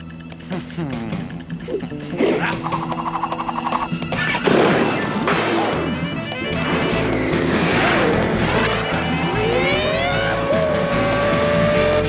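A cartoon car races at high speed with loud engine whine, squealing tires, skids and a crash-like impact, all layered with busy animated sound effects and no talk.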